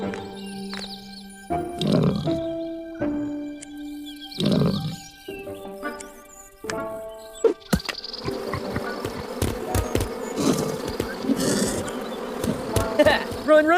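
Bees buzz in the video game Lost Land 9, a droning insect hum that rises and swells among tonal game music notes and scattered sharp clicks and thuds, moderately loud and close.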